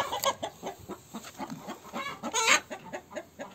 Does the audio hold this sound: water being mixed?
no